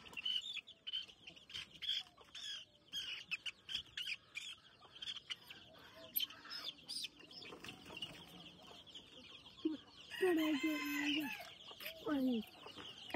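Village chickens clucking close by in a busy, irregular chatter, with a rooster crowing partway through; faint human speech mixes in at times.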